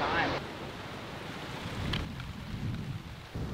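Steady rain falling outdoors in a vegetable garden, a continuous hiss of drops with a low rumble, close and moderately loud, with a brief voice near the start.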